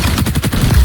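MDR rifle firing in XDefiant, a short rapid burst of several close, loud automatic shots in quick rhythm.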